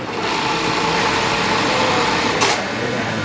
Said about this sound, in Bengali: বার বা বার টাক মেশিন এই মেশিনটা খুবই ভালো লাগছে